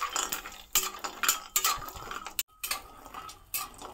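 Badi, lentil dumplings, fry in hot oil in a kadhai, a spoon scraping and clinking against the metal in quick uneven strokes over a faint sizzle, close by and without talk.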